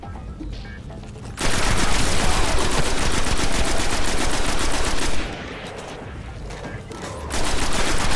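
Rapid automatic gunfire in the shooter game Destiny, loud and close, with a sustained burst, a short pause, then another long burst.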